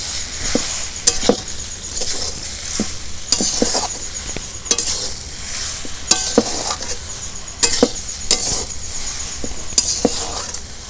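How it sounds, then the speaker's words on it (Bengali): Potato filling stirred with fried spices in a pan for a snack chop, with a steady sizzle broken by sharp metal spatula clinks and scrapes against the pan, close and wordless. "আর ভেজে রাখা মশলা এই মশলাটা তো দিতেই হবে তবে স্বাদটা আসবে এর ভালো করে নেড়ে নেবো"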